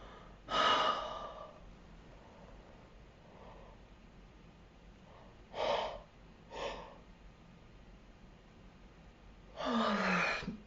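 A person doing a tapping exercise breathes audibly, with several distinct, close breaths and gasping sighs spaced a few seconds apart over a quiet background.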